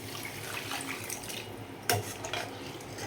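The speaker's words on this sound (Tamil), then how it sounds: "மட்டன் வேக வச்ச தண்ணி இருக்குல்ல அதை நம்ம இதில் ஊற்றிடுவோம்" Mutton stock splashes and pours into a pot, with a sharp metallic clink partway through and a continuous watery rush.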